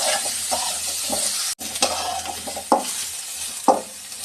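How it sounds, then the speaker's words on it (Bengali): Sliced radish fries with turmeric powder in a pan, a steady hiss of sizzling oil punctuated by several sharp scrapes and knocks of a spatula stirring against the metal, close and loud. "আর দিব হলুদ গুঁড়ো। ভালো করে এটা ভেজে নেব।"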